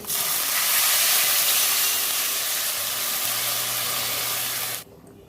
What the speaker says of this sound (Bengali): ডাল ভাজা হয়ে গেছে জল দিয়ে দেবো